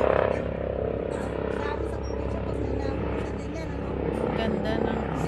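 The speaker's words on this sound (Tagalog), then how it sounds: "May helicopter guys." A helicopter flies overhead at night in Canada, its steady distant rotor drone running throughout while people chat nearby.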